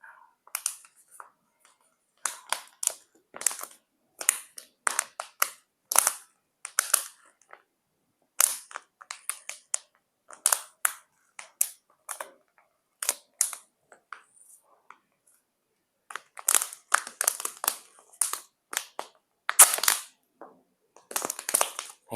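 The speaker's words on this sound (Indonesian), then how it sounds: "Ya, kita kasih lakban aja." Packing tape being torn and pressed onto a plastic drinking-water bottle, heard as a long series of sharp, close crackling rips and taps in irregular bursts, with brief silent gaps between them and no talking.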